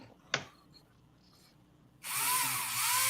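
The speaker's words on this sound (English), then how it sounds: "Oh man. I'm drilling." A small power drill boring into a model kit part, starting abruptly after a quiet moment and whining steadily and loudly close by, with a brief tap before it starts.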